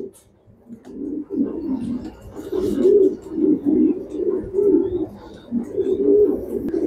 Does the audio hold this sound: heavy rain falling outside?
no